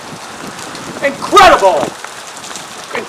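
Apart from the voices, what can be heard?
Hurricane Irene wind and rain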